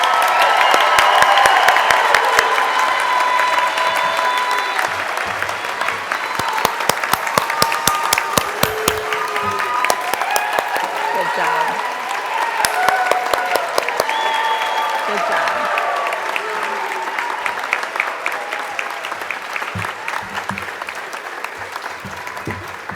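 Audience at a medical school white coat ceremony applauding at length, dense sustained clapping from a large crowd filling a hall, with scattered cheers and voices mixed in throughout.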